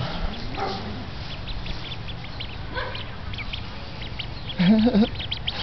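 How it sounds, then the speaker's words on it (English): Ducks quack close by, with a louder burst of quacks near the end, while a person talks softly over them outdoors. "Good duckies. And now they come up for a close-up."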